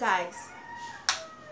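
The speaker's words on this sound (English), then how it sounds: "What is wrong with these chickens?" Chickens cluck with a sharp, crow-like call close by, loud at first and then fading into brief squawks, while a voice speaks a word over them.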